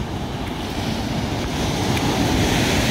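Sea surf rolling in where a street ends at the shore in Atafona, São João da Barra, Brazil, a steady broad wash of breaking waves mixed with wind buffeting the microphone, growing slightly louder toward the end, with no talking.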